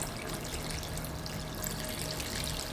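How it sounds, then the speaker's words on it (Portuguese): Room-temperature water pours into a paella pan in a dense, steady splashing rush that stays loud and close for the whole stretch, with no talk. "Agora vem com a água."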